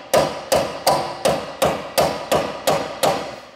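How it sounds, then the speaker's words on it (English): A bigger hammer pounds a suspension joint out of a DeLorean: nine loud, ringing metal strikes in a steady, even rhythm, close by and with no speech. "Then get a bigger hammer if the small one doesn't work."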